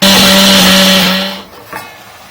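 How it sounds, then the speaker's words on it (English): A loud, steady mechanical whir of a kitchen mixer grinder powdering roasted peanuts and sesame seeds runs for over a second, then cuts off and winds down, followed by a faint brief rattle. "The roasted peanuts and the sesame seeds I have added in the mixie."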